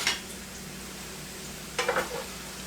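Yellow and white onions sautéing in a pot for chicken gumbo make a soft, quiet sizzle, broken by two brief scraping stirs, one at the start and one near the end; no one speaks.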